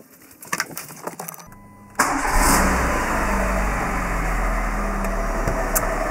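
A Citroën C2 with a TU petrol engine cranks briefly after some clicks and handling noises, catches, then settles into a steady close idle that continues to the end.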